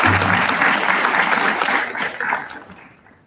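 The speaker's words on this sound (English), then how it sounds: "I want to ask you to give a nice round of applause for your support system" Graduation ceremony audience applause for the graduates' support system, a dense crowd clapping steadily and then tapering off over a few seconds.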